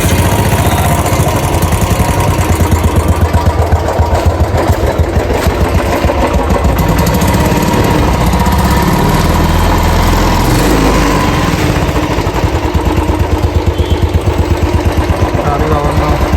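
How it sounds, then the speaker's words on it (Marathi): A motorcycle engine kick-started and left idling, a steady close rumble with a fast regular pulse running throughout, a voice talking over it at times. "एकाच किकमध्ये स्टार्ट करू."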